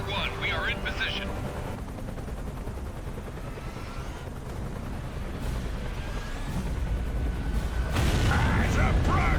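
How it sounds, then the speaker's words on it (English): Mortar and gunfire erupt in the Gears of War video game, a dense, continuous rumble of blasts and shots that swells louder toward the end, with shouted voices mixed in. "Incoming mortars!"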